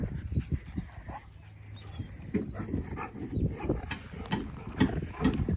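Dogs playing fetch outdoors with plenty of room to run, giving short barks and whimpers in quick uneven bursts, close and fairly loud, with no talking.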